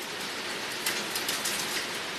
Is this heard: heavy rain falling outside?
yes